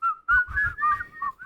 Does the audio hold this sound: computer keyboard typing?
no